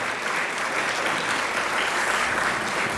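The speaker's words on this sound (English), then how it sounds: "Let's give them a round of applause." A luncheon audience at a law conference awards event claps for attending students, a dense, even wash of many hands sustained at steady volume throughout.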